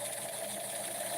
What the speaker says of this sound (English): I'll be sewing one side of the pants